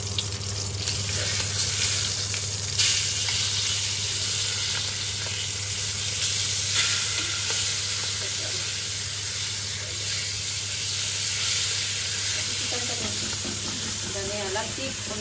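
Latik, coconut milk curds, sizzling and frying steadily in a pan while biko rice cake is made, a continuous close crackle with some faint background noise throughout.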